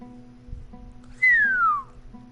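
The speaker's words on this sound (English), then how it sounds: "I don't know why I keep whistling." A person whistles a single descending note, short and clear, close over a quiet low hum and faint background music.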